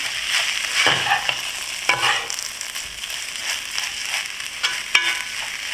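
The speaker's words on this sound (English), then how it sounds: "Stir to combine. Make sure that the pot is in the center of the flame." Rice toasts in a pot over a gas flame while being stirred, with repeated spoon scrapes and rustling grains over a light sizzle, close and without voices.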